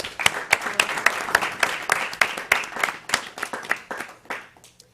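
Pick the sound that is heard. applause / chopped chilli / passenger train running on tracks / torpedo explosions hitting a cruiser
applause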